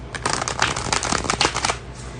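A deck of tarot cards is shuffled in a steady run of close, papery riffling bursts lasting about two seconds, then trails off into quiet.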